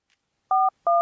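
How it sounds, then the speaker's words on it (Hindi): Two short telephone keypad dialing tones, clean and loud, each lasting about a fifth of a second with a brief gap between them, heard alone with no talk. "फोन लगाती, देखती फोन लगाती"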